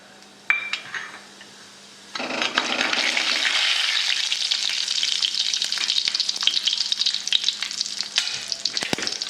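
A couple of clinks, then a sudden loud hiss as seeds hit hot oil and keep sizzling and crackling steadily for several seconds.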